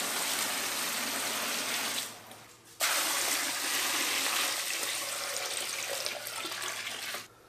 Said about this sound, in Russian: Ну и заливаю все это холодной водой.